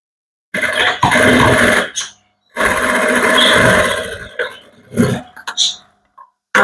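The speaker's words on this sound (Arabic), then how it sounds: "هسه شنو خلينا نخيط الردن من الوسط" A sewing machine stitches the middle of a dress sleeve for a girl's gathered garment, running in loud bursts of steady whirring separated by pauses and short stops.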